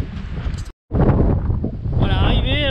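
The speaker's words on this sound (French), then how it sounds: "Il y a beaucoup de vent aujourd'hui." Strong wind gusting on a mountain above Briançon at the Croix de Toulouse, loud buffeting roar against the microphone with a brief dropout, continuing steadily throughout.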